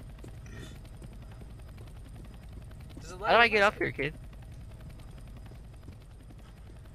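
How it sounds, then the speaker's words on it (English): A video game helicopter's rotor thrum runs steadily in the background while a person speaks briefly over it. "You have to get on the helicopter."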